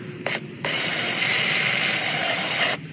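A cordless drill drives a set screw into a pipe fitting for a sump system: two short bursts, then one loud sustained whirring run of about two seconds, close up with no talking.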